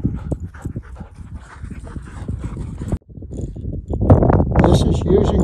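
Young dog and older dogs pant and whimper close by during whistle recall training on a walk, with breathy rhythmic huffs under brief voices and a louder rustling burst near the end.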